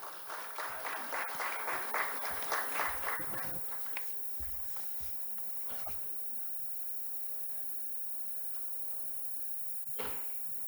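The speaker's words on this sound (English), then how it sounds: "let's welcome him with a big round of applause" An audience at a procurement conference claps to welcome a speaker to the stage, a burst of applause for about four seconds that fades into quiet room noise with a few footsteps and thumps.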